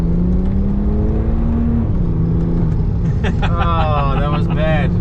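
A tuned BMW 330d diesel sleeper making about 700 Nm drones loudly from close inside the cabin while accelerating hard in a race, a steady low engine note with a rising whine, while excited voices talk over it.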